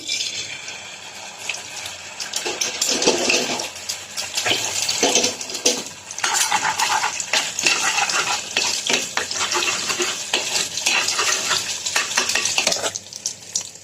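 Steady sizzling and crackling of an egg frying in a hot pan, loud and close, with occasional scraping and stirring sounds throughout, no talking.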